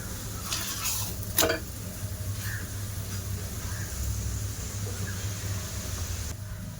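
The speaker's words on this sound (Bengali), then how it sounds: "তেলটা গরম হয়ে গেছে পরোটাটা দিয়ে দেব আর অল্প তেলেই ভাজা করে নেব পরোটাটা" Spinach paratha frying in a little hot oil in a pan gives a steady, soft sizzle, with a few light scrapes and clinks of utensils near the start.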